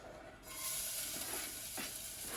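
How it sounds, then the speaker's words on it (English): Garlic hits hot olive oil with a sudden bright sizzle that keeps hissing steadily, with faint scraping from a utensil moving through the pan. "you start by frying up a little bit of garlic"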